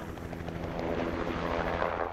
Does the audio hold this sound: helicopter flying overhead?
yes